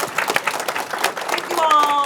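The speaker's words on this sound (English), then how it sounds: "Can we please have a round of applause for our speakers?" Audience applause for panel speakers at a talk on modern Asian motherhood, a steady wash of clapping from a crowd with voices mixed in and a brief tonal sound near the end.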